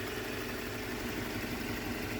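Toyota Hilux Surf SSR-X with the 3RZ gasoline engine idling, a steady low rumble with a faint even hum that stays constant throughout, with no talking.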